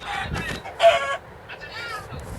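A blocky Minecraft chicken clucks in a few short bursts, close and fairly loud, over a quiet game background.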